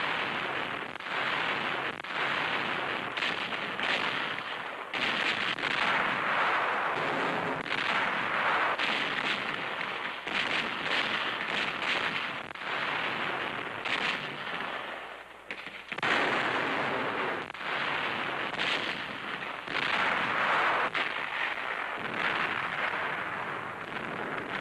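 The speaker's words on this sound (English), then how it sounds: "Guns, emplaced in the hills, open fire." Artillery guns emplaced in hills firing at Nazi tanks in 1943 wartime newsreel footage, a dense continuous roar of repeated booms and blasts with no clear gaps, loud and sustained throughout.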